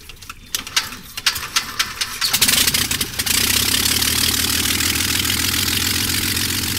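A bush plane's aircraft engine cranks with a few sputtering, uneven bursts, then catches and settles into a loud, continuous close roar that holds steady through the rest of the stretch.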